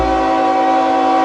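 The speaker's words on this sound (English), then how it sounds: "CSX B820, ethanol empties coming out of Lawrenceville, Georgia, and heading up north to Bensenville," CSX B820 freight train hauling empty ethanol cars out of Lawrenceville, Georgia, sounds a long, steady, loud horn blast that holds unbroken throughout.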